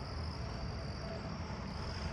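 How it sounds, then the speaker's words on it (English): Southeastern field crickets chirping in a neighborhood on a summer evening, a steady dense trill that goes on without a break at moderate distance and mixes into the background hum. "southeastern field crickets over there."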